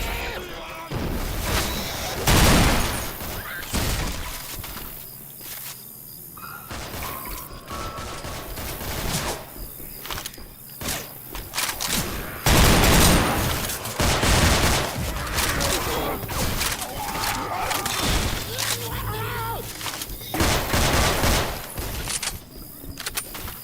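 Gunfire in Left 4 Dead 2, with loud, dense bursts of shots and crashes repeating throughout, mixed with mechanical clatter and intermittent voices.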